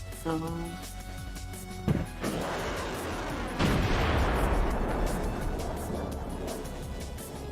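Cannon fire in a video game, one booming shot followed by a long rumbling roar that hangs under a brief voice, with a second heavy blast swelling midway, loud and close.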